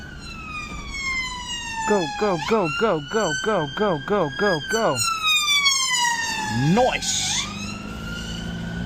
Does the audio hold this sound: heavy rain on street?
no